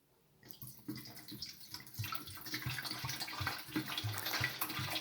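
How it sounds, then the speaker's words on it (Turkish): Water poured into the water tank of a Medisana model 40012 humidifier, a steady splashing pour that starts after a brief quiet moment and builds gradually, close by with no talking. "Deneme amaçlı biraz su koyacağım."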